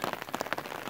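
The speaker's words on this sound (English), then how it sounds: "I hope perhaps it will be the last raining of spring" Spring rain falls in a soft, steady patter, faint and close, with no voices.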